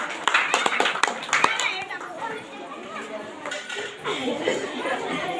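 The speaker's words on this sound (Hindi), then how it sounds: "परमेश्वर को जोरदार तालियों का धन्यवाद देती है" A church congregation at a Sunday prayer meeting claps in praise, with a burst of sharp handclaps at the start that thins out. Chatter and children's voices carry on around and after the clapping.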